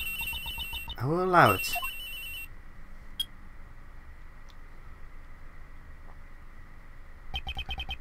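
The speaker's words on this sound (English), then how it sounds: "Phone call, mind if I take this?" Phone ringing in the Ace Attorney Investigations 2 video game, a short rising-falling electronic ring burst near the start, with a brief spoken voice later and game ambience throughout.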